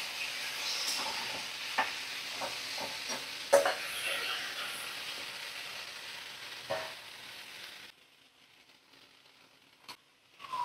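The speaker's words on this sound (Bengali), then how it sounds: "এবার লাউ দিয়ে দেব, সরু করে কেটে রাখা লাউ দিয়ে দিলাম।" Thinly sliced bottle gourd sizzles in a pan over a cumin and green chilli tempering while being stirred, a close steady frying hiss with light scraping that drops away near the end.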